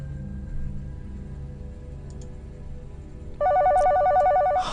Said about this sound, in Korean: 소리의 정체가 부대 사무실에 비치해놓은 전화기 벨소리라는 걸 깨달았습니다